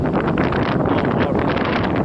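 Strong, blustery wind buffeting the microphone while riding a Cyrusher Grace e-bike, a continuous loud roar with gusty pulses and no other sounds.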